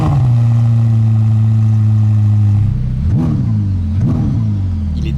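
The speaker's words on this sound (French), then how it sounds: "c'est le son du moteur. Pied sur le frein, engine start-stop." Ferrari SF90 Stradale hybrid hypercar engine fires up and holds a loud, steady idle, then gives two sharp blips of revs that rise and fall quickly, close by with no talking.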